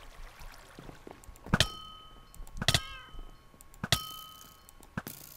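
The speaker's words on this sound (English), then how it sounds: "Who's meowing?" A Minecraft cat meows a few times, short tonal calls mixed with sharp clanging hits spaced a second or so apart, fairly quiet overall.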